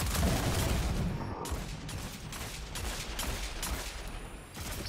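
Sustained bursts of gunfire in the video game Destiny as players shoot glowing spores, a dense, loud crackle of rapid shots layered over a continuous rumbling background.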